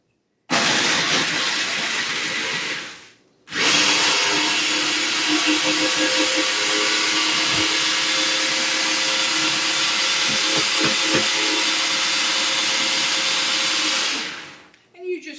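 Oreo cookies being pulverized in a blender, a loud, steady motor whine with gritty grinding that runs for a few seconds, cuts out briefly, then resumes for a long stretch before stopping.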